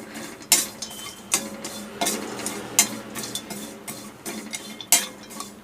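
Dry ginger being stirred and lightly roasted in a pan, giving a steady scraping and rustling with repeated sharp clinks of the spoon against the metal, close and moderately loud, with no talking.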